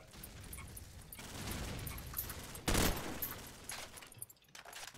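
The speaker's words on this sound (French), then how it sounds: "vous m'avez tiré dessus, vous avez même pas réussi à me tuer" Rapid automatic gunfire from the Call of Duty 4 video game, bursts of close shots rattling continuously with one louder blast near the middle, loud and dense throughout.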